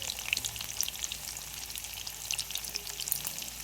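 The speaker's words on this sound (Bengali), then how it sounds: "বেশি আলু তো আলুগুলো আমি ভেজে নেব।" Potatoes fry in hot oil with a dense, even crackling sizzle, close and steady throughout with small pops scattered across it.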